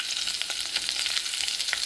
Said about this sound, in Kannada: ಬೆಳ್ಳುಳ್ಳಿಯನ್ನು ಈ ಥರ ಗುದ್ಬಿಟ್ಟು ಹಾಕ್ತಾಯಿದ್ದೀನಿ, ಇದು ಕೂಡ ಫ್ರೈ ಆಗಬೇಕು.